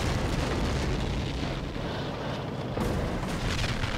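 A mortar blast in Call of Duty: World at War rumbles as a loud, sustained low boom that fills the whole stretch, with a fresh burst of energy near the end and no talk over it.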